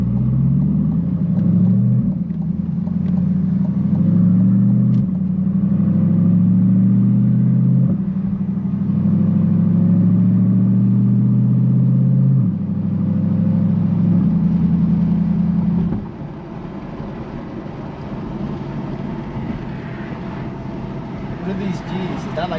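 A Range Rover engine pulls hard in steady rising bursts, a loud low rumble with gear-change breaks, then settles into a quieter cruising drone as people talk inside the cabin.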